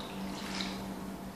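A glass of water poured into a pan of peppers and sausage with a little oil, a short, soft, steady splashing pour heard nearby and alone.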